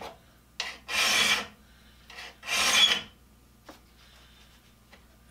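A carbide saw blade tooth is sharpened by hand, giving two long, close rasping strokes separated by pauses, with a few small ticks between and after them.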